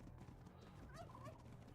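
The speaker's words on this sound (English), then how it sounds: "Yeah, gobble gobble turkey." A turkey gobbles in a western roleplay video game, a short warbling call standing out midway over steady game ambience and low background rumble.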